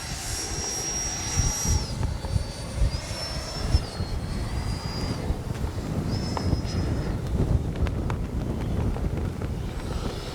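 Freewing 90mm F-22 V2 RC jet making a gear-down pass on a windy day, a steady ducted-fan whine with shifting pitch held throughout over wind rumble on the microphone.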